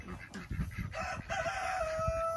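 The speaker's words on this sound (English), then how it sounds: "this is Omar's chickens" A backyard flock of chickens sounds close by in a brief clip, with a rooster's crow rising and holding over scattered clucks and some handling noise.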